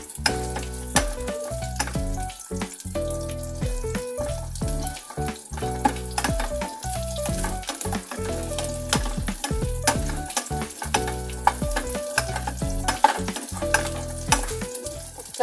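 Steady crackling sizzle of saba bananas frying in hot oil, with dense popping throughout and no talking.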